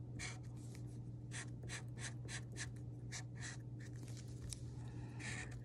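Red coloring on a paper totem pole, heard as a rapid series of short, close scratchy strokes over a steady low hum.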